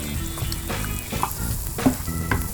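Garlic and onion frying in a hot pan for Chinese crispy noodles, a steady close sizzle with a few clattering stirs and scrapes throughout.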